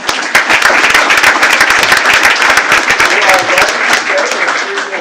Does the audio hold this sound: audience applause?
yes